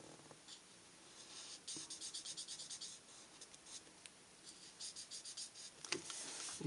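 A Stampin' Blends alcohol marker is worked across paper in quick back-and-forth strokes, making a faint, close, rhythmic scratchy squeak with brief pauses between bursts of colouring.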